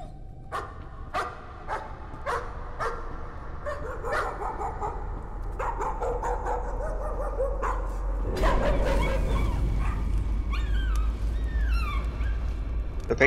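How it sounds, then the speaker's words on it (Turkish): A dog barks and whimpers in the video game Layers of Fear: a run of sharp, evenly spaced barks, then louder, denser yelps and whines over a rising low rumble. "Köpek yandı abi."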